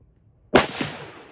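A single rifle shot from an 1898-era rifle with a light two-stage trigger cracks close and loud, then its echo tails off over about a second, with no talking.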